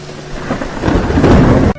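A deep rumble of thunder rolls and swells over steady rain hissing close by, building in loudness before cutting off abruptly.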